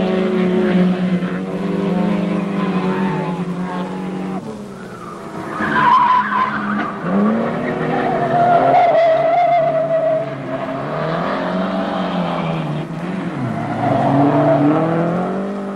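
Jaguar production race cars battling at Brands Hatch in 1971, engines loud and close throughout, with rising and falling pitch as the cars accelerate, brake and pass, tyres scrubbing through corners.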